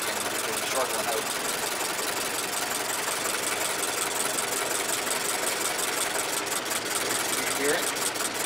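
A 1914 Ford Model T engine runs steadily nearby with one cylinder shorted out, giving a continuous, slightly uneven idle that holds for the whole stretch, with faint voices in the background.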